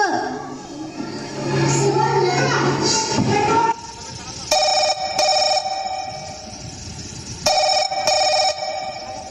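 A telephone rings in a school street play, with two bursts of electronic trilling ringtone, each lasting about a second, following a stretch of children's and adults' voices.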